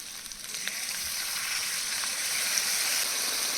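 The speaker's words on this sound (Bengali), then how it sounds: "আলুগুলো দু তিন মিনিট কষিয়ে নিয়েছি এবার দিয়ে দেবো টক দই" Potatoes sauté in a pan with a steady, soft hiss of frying, faint stirring touches now and then, no voices.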